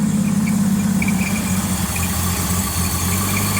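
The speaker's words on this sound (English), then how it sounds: "Rev it up a little" An old car nicknamed Myrtle being readied for the road runs at a steady idle with a mid-pitched engine drone and faint squeal, close and continuous, with no clear rise into a rev.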